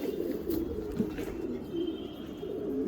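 Cooing of a Blizzard King Kittel pigeon, a Pieter Veenstra bird bought at auction, heard as soft, steady low coos repeating close by in a quiet loft with no talk.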